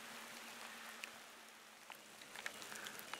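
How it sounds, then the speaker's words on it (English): Steady rain falls at a ranch during a ram hunt, a soft even hiss with occasional louder drips and taps, close by and without talk. "It's been raining."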